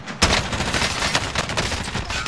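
Loud, continuous rapid gunfire in a Warzone trios match, a dense stream of shots close by that starts abruptly and runs without a break to the end.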